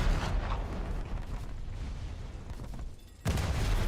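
Naval guns firing in the War Thunder game, a dense, continuous barrage of heavy booms and rumbling blasts that dips briefly near the end before surging back at full strength.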